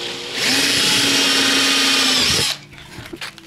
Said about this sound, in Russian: Теперь начинаем сверлить. Ровно по центру стараемся.